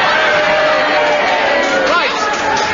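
Studio audience cheering and shouting on a radio panel game show, a dense, loud crowd roar that stays steady throughout with babble of voices mixed in.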